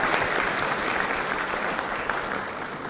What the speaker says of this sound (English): give a big applause to our distinguished guest